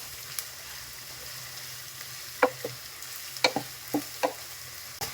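Onions frying in a pan for a spicy brinjal masala, a low steady sizzle with a few sharp scrapes and pops from stirring, close and quiet with no speech.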